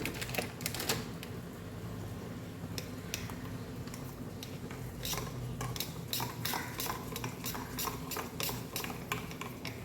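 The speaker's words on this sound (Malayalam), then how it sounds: "നന്നായി മിക്സ് ചെയ്യാം" Custard bread pudding ingredients being mixed in a bowl, a run of quick clinking and tapping strokes of a utensil against the dish, close and steady with no speech.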